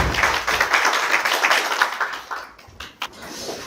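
Audience applause at the KOITA IR Demo Day investor event in 2024, a dense burst of clapping that fades out after a few seconds, leaving only a couple of scattered claps.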